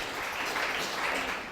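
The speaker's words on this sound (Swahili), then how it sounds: "Piga makofi mara." Secondary school students at Nembu clap their hands during a Kiswahili arts performance, a steady, dense wash of applause that lasts the whole short stretch.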